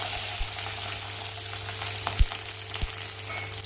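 Chili, ginger and garlic hit hot oil and fry with a steady close sizzle, broken by a couple of soft knocks, probably a utensil against the pan, and no voices.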